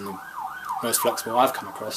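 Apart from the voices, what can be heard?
police siren passing outside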